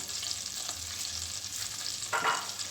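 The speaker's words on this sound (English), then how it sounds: "we add onion that we crushed earlier" Crushed onions frying in butter in a saucepan: a steady hiss of sizzling with soft stirring, and a brief louder scrape near the end, heard alone without speech.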